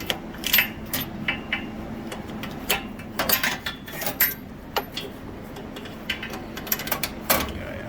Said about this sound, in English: That'll be a 5/8 spark plug wrench.